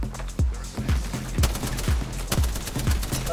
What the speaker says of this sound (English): That's my airstrike.